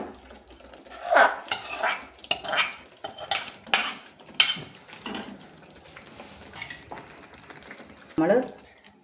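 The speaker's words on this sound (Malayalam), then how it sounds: "ഇനി നമ്മൾ ഇതിലേക്ക് വേവിച്ച് വെച്ചിരിക്കുന്ന ചെമ്മീൻ ഒഴിച്ചു കൊടുക്കുകയാണ്." Cooked prawns go into a masala in a pan, followed by repeated spoon scrapes and clinks of stirring, with a soft bubbling undertone; a voice speaks at times.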